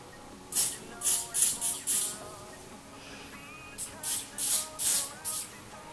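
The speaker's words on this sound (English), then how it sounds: "So I kind of just want to spray this right on my face." Two quick runs of short spritzes from a makeup setting spray bottle hiss close by, sprayed onto a face, about five bursts each, with a brief pause between the runs.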